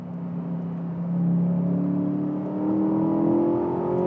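Aston Martin DBX SUV engine idling and rising in a steady, characterful growl, with a low droning hum that swells twice as revs climb, close and continuous with no talking.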